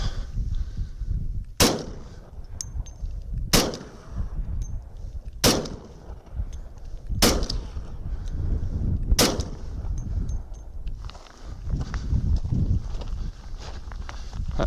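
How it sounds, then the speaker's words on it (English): Speer Gold Dot 200-grain 10mm pistol rounds fired from a factory 6-inch barrel, five sharp loud shots spaced roughly two seconds apart over outdoor background noise. "All right, this will be the factory 6-inch barrel."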